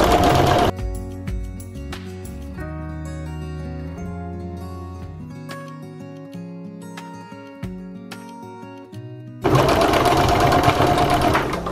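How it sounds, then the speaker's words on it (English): A sewing machine runs a straight stitch with back tacking down a seam of old denim jeans, a steady whirring hum that holds for most of the stretch, then a louder burst of running near the end; no talking. "we're just going to run a stitch straight down here, back tacking it at the beginning and end"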